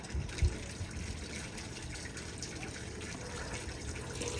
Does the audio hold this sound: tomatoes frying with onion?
no